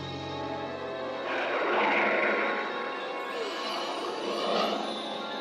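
A cartoon aircraft comes in to land with a droning, whooshing engine roar that swells and fades twice over the few seconds, loud and alone without talk.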